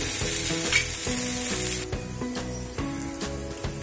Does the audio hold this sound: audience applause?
no